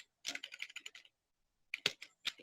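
Computer keyboard typing in quick bursts of close, crisp keystrokes, a short pause, then a few more isolated, firmer key taps.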